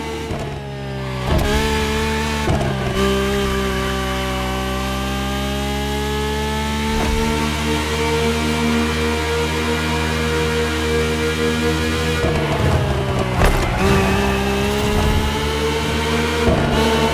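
A rally car engine roars steadily with shifting revs and a couple of sharp gear changes, loud and continuous, heading onto dirt in the video game The Crew Motorfest.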